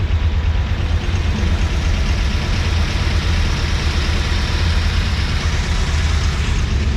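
A 1950 Chevy engine runs just after its first fire-up, smoking heavily, with a loud, steady, low rumbling idle throughout, close by and with no voices.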